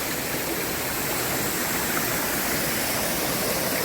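A waterfall near Kingston, Jamaica roars in a loud, steady, unbroken rush of falling water, heard close and alone with no voices.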